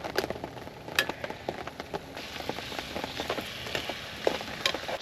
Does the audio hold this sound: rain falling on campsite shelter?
yes